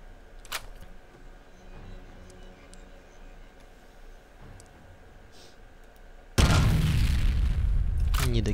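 A grenade explodes in the shooter game F.E.A.R., a sudden loud boom that cuts in after quiet gameplay ambience with faint clicks and stays as a dense, roaring blast to the end.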